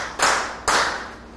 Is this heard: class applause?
yes